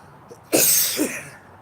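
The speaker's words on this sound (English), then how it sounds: "getting a good bad cough like this" A person gives a single harsh, rough cough with a short second burst right after it, close and fairly loud against a quiet room, from someone who has been sick with a bad cough.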